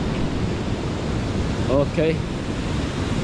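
Rough typhoon sea surges against the Dipolog boulevard in a steady, loud wash of surf and wind noise, with a brief spoken word cutting in midway.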